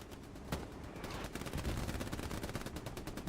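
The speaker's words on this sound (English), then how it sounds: "Rev Forest with the MG in the window" Machine gun fire from a window position in the World War II shooter Hell Let Loose crackles as rapid, fairly faint bursts over steady battlefield noise during a competitive match.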